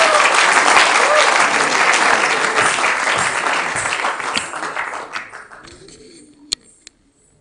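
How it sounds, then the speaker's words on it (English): An audience applauds a singer at a college convocation ceremony, dense loud clapping that gradually thins and fades out over several seconds, ending with a couple of isolated claps. "Let's cheer her with a round of applause."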